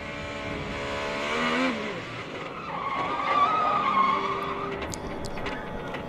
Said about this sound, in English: Following Rinus VeeKay and gets loose up over the crest.